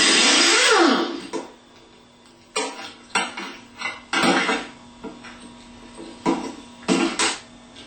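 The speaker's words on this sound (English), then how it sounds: "Then use a 1/2 inch impact and a 15/16 socket." A 1/2 inch impact wrench fitted with a 15/16 socket spins off the pulley nut of a Bosch alternator from a Dodge truck. Several short, loud, close bursts of hammering rattle are separated by brief pauses.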